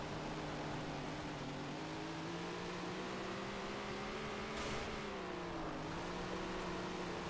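A dirt late model race car engine from the racing game Tony Stewart All American Racing drones steadily at high revs, its tone rising and dipping slightly as the car circles the Willow Creek dirt track.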